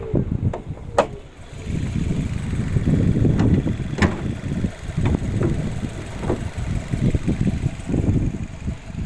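A new 1.5-litre petrol engine in a 2018 Maruti Suzuki Ciaz idles steadily nearby, a low continuous rumble with a few faint clicks and knocks over it.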